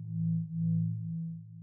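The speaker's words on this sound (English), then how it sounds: "Reverb, a generous amount of reverb with a long decay time." A synth patch drenched in big, long-decay reverb holds a low, smooth sustained tone that swells twice and then fades slowly, alone without any voice.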